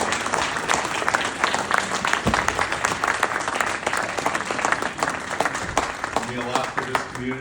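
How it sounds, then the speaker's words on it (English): A bar association audience gives a round of applause for a retiring leader, a sustained, fairly close roll of many clapping hands lasting throughout, with a voice speaking faintly near the end. "I think we all should give him a round of applause"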